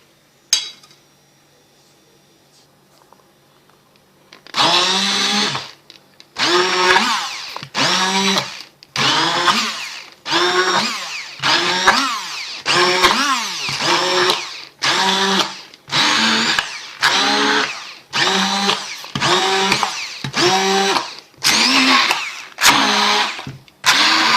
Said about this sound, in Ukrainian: Також нам потрібен буде блендер, щоб збити сметану і сир